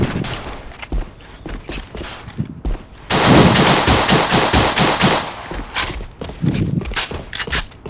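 Rapid automatic gunfire from the online shooter A.V.A, loud bursts of fast repeated shots with a sustained stretch of continuous fire in the middle and choppier volleys around it.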